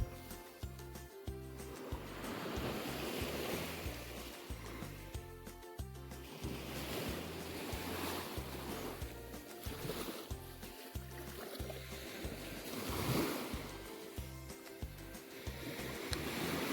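Ocean waves wash and roll onto a beach at Huntete Beach on Tomia Island, Wakatobi, in repeated surges, with a steady hiss of surf and some wind noise, no voices.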